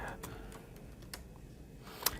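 Someone types on a computer keyboard while writing in MS Word, producing a few quiet, scattered key clicks at an uneven pace with a sharper tap near the end, close and faint.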